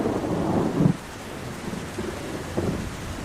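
Thunderstorm with rain in a forest setting of an animated story, with low rumbling thunder swelling near the start and again near the end over a steady wash of rainfall, no voices.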